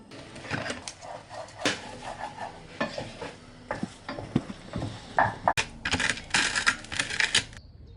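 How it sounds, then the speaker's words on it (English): A utensil scrapes and stirs eggs with pesto around a pan, producing continuous clattering, scraping strokes with occasional sharper metallic knocks, close and moderately loud with no talking. "that's why I'm mixing it in so that the eggs don't stick to the bottom of the pan."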